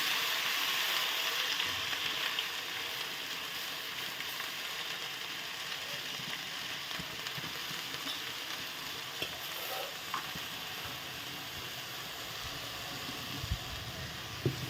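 Washed jute leaves (pat shak) fry in a pan with a continuous close sizzle and occasional scraping stirs and small clicks throughout, no voices.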